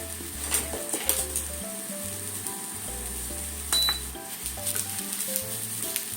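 Shiitake mushrooms and long green onions sizzle in a frying pan, a steady bright crackle running throughout with occasional clinks of utensils against the pan and low stirring bumps underneath.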